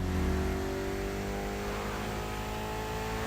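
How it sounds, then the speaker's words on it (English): A Mitsubishi car with a 280-horsepower inline four-cylinder engine revs in The Crew Motorfest racing game, a loud, close engine note climbing steadily in pitch as it accelerates, with no voices. "Mitsubishi gave us a nice inline four-cylinder with already 280 horsepower"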